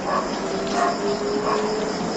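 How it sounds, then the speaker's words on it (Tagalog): A dog barks at night in a public cemetery, a few distant yelping barks in a regular rhythm over a dense, steady chorus of insects. "ang ingay-ingay ng aso na ito"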